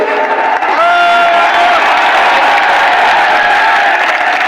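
A huge crowd cheers at a Mayawati political rally in Lucknow, loud and continuous with massed shouting, whoops and overlapping voices filling the whole stretch.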